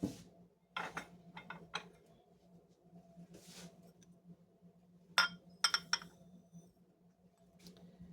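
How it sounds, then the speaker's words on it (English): Glass and ceramic clinks and knocks as a large mixing bowl is grabbed and set down, several sharp close clatters in two bursts separated by quieter handling. "let me grab one of my bigger bowls over here"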